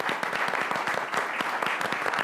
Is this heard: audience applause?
yes